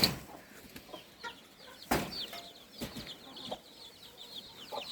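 Young chickens on a farm cluck and cheep in scattered bursts close by, with a few sharper calls and rustles as the flock scurries about. No one speaks.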